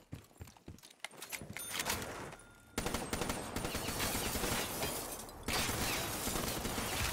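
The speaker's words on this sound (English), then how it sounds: "Shoot the computer with the gun from the wall." Rapid gunfire in Call of Duty custom zombies, dense bursts of shots firing almost continuously and loudly, starting with scattered clicks and cracks.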